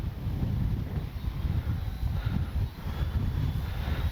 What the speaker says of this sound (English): Probably can hear the wind through the mic for sure